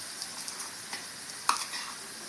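Garlic chutney hits a hot pan for a small bitter gourd fry, giving off a quiet, steady sizzle with light stirring and one sharper utensil clink.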